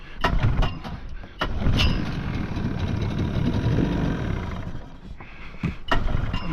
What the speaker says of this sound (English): Right, we might try to start the engine.